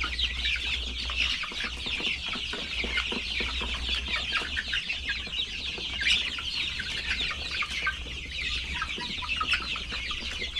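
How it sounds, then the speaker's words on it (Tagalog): A flock of chickens clucks and chatters continuously nearby, a busy overlapping murmur of calls with no talking. "Pinakita ko kay Bebe yung mga manok."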